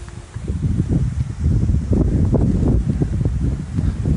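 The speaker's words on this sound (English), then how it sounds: "Welcome the wind, which I'm sure you all know is one of our most annoying things" Strong gusty wind buffeting the microphone outdoors, a loud continuous low rumble with rustling, swelling and easing over a few seconds with no talking.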